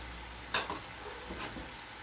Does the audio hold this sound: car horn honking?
no